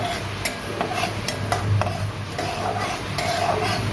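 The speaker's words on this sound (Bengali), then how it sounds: "ঘন ঘন নাড়াবেন ভালোভাবে" Close-up kitchen sounds of mustard frying in a pan with repeated scraping and clinking of a utensil stirring, over a low steady sizzle.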